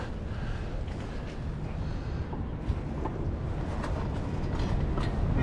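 A train rumbles steadily with low clattering and mechanical noise, growing gradually louder as it approaches a station.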